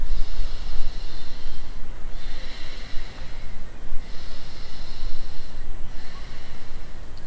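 Steady deep breaths during pranayama practice, long drawn inhales and exhales with soft airy hiss repeating in slow cycles, close and continuous with no talking.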